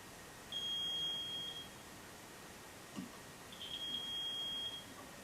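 Two short electronic beeps from a meeting speaking timer signal that time has run out, spaced a few seconds apart in an otherwise quiet room with no talking.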